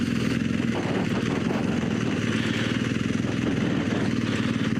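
An adventure motorcycle on Michelin Anakee tires lets its engine wind down under front braking on a hillside, a steady, loud, rough mid-pitched rumble filling the whole stretch with no speech.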